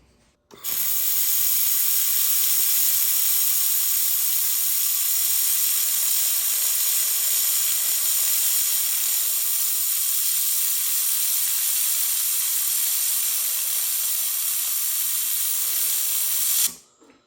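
XLaserLab X1 Pro 3-in-1 laser welder running with a higher shielding gas flow: a loud, steady broadband hiss starts abruptly and holds evenly for about sixteen seconds before cutting off.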